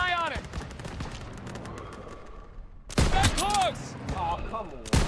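Gunfire from the World War II shooter game Call of Duty WW2 during a stronghold assault, sharp dense bursts and impacts layered with battle noise, loud and close, breaking off midway then returning in a heavier volley, with voices heard amid the fighting.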